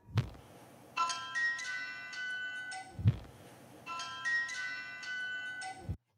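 A ghost hunting app on a cell phone plays an electronic cycle twice: a sharp tick, then a run of bright ringtone-like chime tones, heard clearly in a quiet room.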